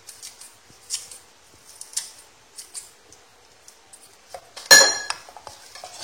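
Scissors snipping fresh chives coarsely over a sauce, a series of light, crisp cuts at an irregular pace ending in one sharper metallic clink, close and quiet.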